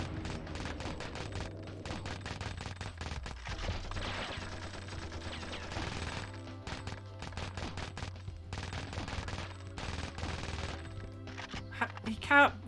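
Repeated gunfire in the PS1 game 007: The World is Not Enough, quiet bursts of rapid shots recurring over a low steady hum, with a few pauses and a louder thump at the end.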